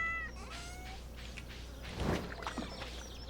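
A cat meows several times indoors, rising and falling cries close to the microphone over a steady low hum, with a louder meow near the end.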